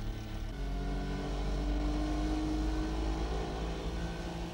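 A car being driven, likely an older 1970s model, hums with a steady low engine drone from inside the cabin, without voices.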